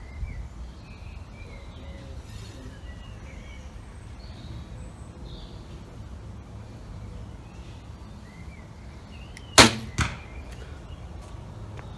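A single sharp, loud impact as an arrow strikes a target, with a brief rattle after it, against a steady low outdoor rumble and faint bird calls.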